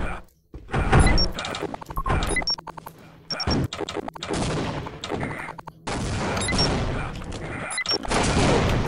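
Grenade explosions and gunfire in the game Team Fortress Classic, with a string of loud bursts and booms crowding together in dense clusters and players' voices talking over the fighting.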